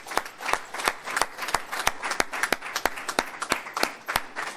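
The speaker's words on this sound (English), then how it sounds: "Give yourselves a warm round of applause" Audience applause made of sharp, distinct claps in a fairly regular, quick rhythm, close and clear, with a soft wash of further clapping underneath and no speech.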